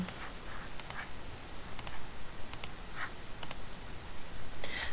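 A computer mouse clicks repeatedly during a demonstration of an online service, sharp isolated clicks spaced irregularly, some in quick pairs, over quiet room noise with no talking.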